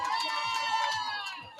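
A dense outdoor crowd at the Utah Pride parade, an excited roar of many overlapping voices and cheers, close and loud and continuous, with rhythmic thumping beneath.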